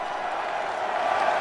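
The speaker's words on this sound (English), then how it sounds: "That pleases the crowd." Crowd in a rugby league video game roaring and cheering, a dense continuous wash of stadium noise.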